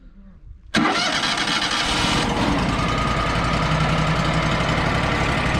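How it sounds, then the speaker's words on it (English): A Kohler engine on a Wood-Mizer LT35 sawmill cranks and catches abruptly, then settles into a loud, steady, rumbling idle that continues without a break. "he's going to see if his wood miser will fire up"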